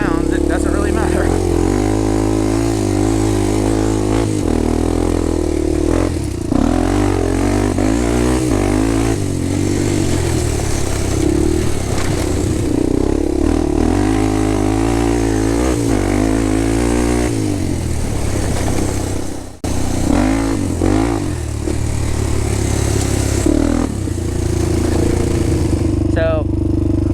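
A Honda 400EX ATV engine drones steadily in a high gear for the whole stretch, loud and close, with a brief dip near the end.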